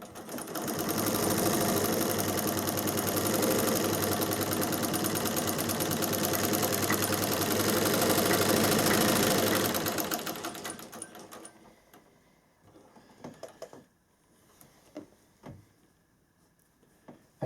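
A Singer 15K sewing machine in a treadle cabinet stitches coarse canvas, a loud, steady rapid clatter running for about ten seconds before stopping, followed by scattered faint clicks and knocks.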